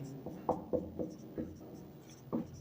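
Numbers are written by hand during a class-6 maths lesson on area and perimeter: a handful of short, separate scratching strokes at an uneven pace, close and quiet.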